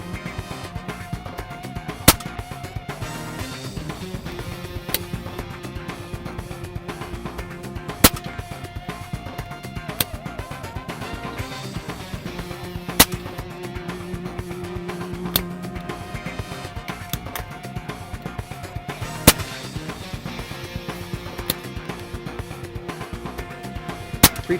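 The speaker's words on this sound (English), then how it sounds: "Now we're going to test the gun for its maximum foot-pounds of energy with the Beeman Kodiak match 31" BSA Lone Star pre-charged air rifle firing heavy Beeman Kodiak Match pellets, several sharp isolated cracks spaced a few seconds apart over a quiet background.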